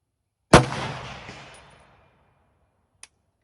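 A single loud, close rifle shot from a Romanian PSL 7.62 mm semi-automatic sniper rifle cracks out and rings off over about a second, followed by a small faint click or tap near the end.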